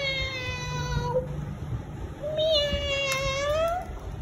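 A person imitates a cat's meow with drawn-out, rising and falling whining calls, two long mewing phrases close to the microphone at home with a baby, over a steady background hum.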